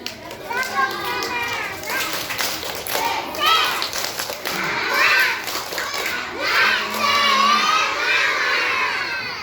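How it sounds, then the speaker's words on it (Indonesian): Group of young children at a morning disaster-preparedness gathering clapping and shouting together, a busy crowd of high voices with rhythmic claps running throughout at close range. "Coba dulu tepuk semangat."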